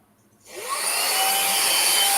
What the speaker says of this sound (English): I got this little vacuum cleaner, and so when you turn it on